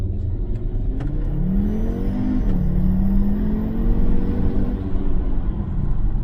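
A 2012 Audi RS3 hatchback engine pulls hard toward the redline from inside the car, a loud, rising growl whose pitch climbs steadily, briefly dips at a shift, then climbs again under road rumble.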